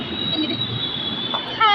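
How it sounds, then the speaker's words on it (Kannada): Steady rumble of a metro train running, heard from inside a carriage, with a sustained high whine from the wheels and rails and a sharper metallic squeal rising near the end. "ಇವಾಗ ನಾವು ಮೆಟ್ರೋದಲ್ಲಿ ಹೋಗ್ತಾ ಇದ್ದೀವಿ."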